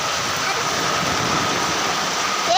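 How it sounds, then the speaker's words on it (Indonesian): Heavy rain pouring down outdoors, a dense, continuous hiss of close, loud downpour with no break. "Menahan hujan ketika hujan sedang turun dengan lebat"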